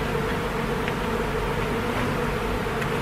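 Honeybees drone in a dense, steady buzz around an open hive during a beekeeper's inspection, the swarm humming close and continuous with no talk.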